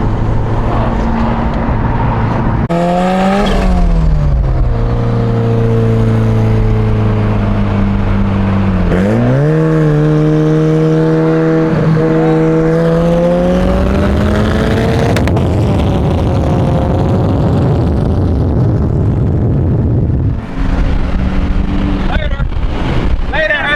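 A Nissan 400Z with a single-exit exhaust revs and accelerates hard, its engine pitch climbing through several gear changes while racing a turbo Civic, with loud wind buffeting and people talking inside the car.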